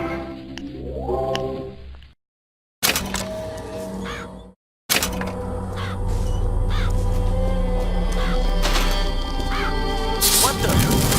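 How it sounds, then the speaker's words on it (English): Summoned murderous crows caw in Bioshock Infinite, harsh repeated calls over dense, loud game sounds, with brief gaps of silence between bursts. "Press to summon murderous crows."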